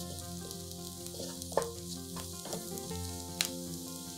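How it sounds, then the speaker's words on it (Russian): Steady sizzling of onions frying in a pan, with a few soft clinks and stirring scrapes, no voices. "В сковороду насыпаем нарезанный лук. Пассируем до золотистости."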